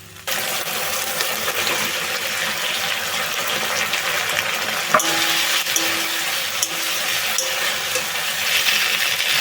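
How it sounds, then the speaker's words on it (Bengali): Fried soybean chunks being stirred into tomato, green chili and soy sauces in a pan, giving a steady close sizzle with soft scraping and stirring throughout, no talking. "নিয়ে আগে থেকে ভেজে রাখা সয়াবিনটা দিয়ে দেবো।"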